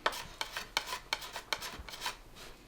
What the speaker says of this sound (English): You're only gonna hit it lightly with that scraper